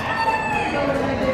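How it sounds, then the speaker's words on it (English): Chickens and roosters in a county fair poultry barn, with continuous overlapping clucks and crowing calls forming a dense, close chorus of fowl. "Look at all these chickens."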